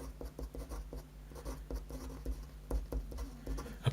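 A word being written by hand, pen or marker strokes scratching in short rhythmic bursts, close but faint, with no talk.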